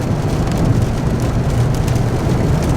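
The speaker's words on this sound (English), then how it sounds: "This is a good storm, man." Rain pounds steadily on the roof of a van during a storm, with wind and a deep low rumble, loud and dense throughout, with no voices.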